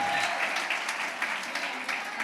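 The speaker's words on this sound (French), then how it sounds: "Applaudissez comme vous le croyez." A church congregation claps and applauds together, a continuous mass of hand claps at moderate level with a few sharper individual claps standing out.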